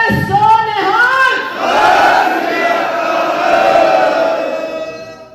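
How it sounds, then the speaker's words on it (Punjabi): A crowd shouts the Sikh jaikara battle cry, a lone voice calling out first and a loud massed roar of many voices answering and holding for several seconds before dying away. "ਜ਼ਰਾ ਗੱਜ ਕੇ ਜੈਕਾਰਾ ਗਲਾ ਪਾੜ ਕੇ ਜ਼ਰਾ ਬੋਲੋ"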